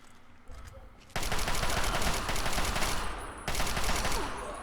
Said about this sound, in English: Getting my assault rifle out. That's my favourite weapon, Chinese assault rifle.